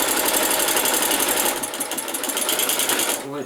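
A domestic sewing machine stitches steadily through thick quilted fabric on a sewing machine cover, running with a close, rapid mechanical chatter. The pace eases slightly partway through.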